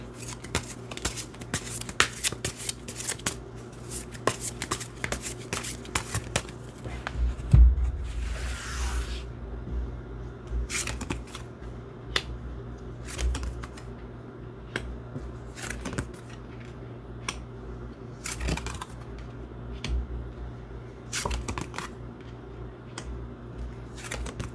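Tarot cards shuffled by hand for a long stretch, a steady run of close, crisp riffles and slaps with brief pauses and a low background hum, no speech.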